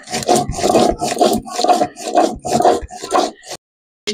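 Garlic, ginger, chillies and cumin ground into a paste on a grinding stone in a village kitchen, a steady run of rough rasping strokes back and forth, close and fairly loud, ending in a brief silence.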